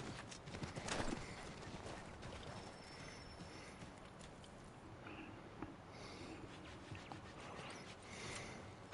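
Steady clip-clop of horse hooves at a trot in Assassin's Creed 3, moderately close, with faint ambient rustling and no speech.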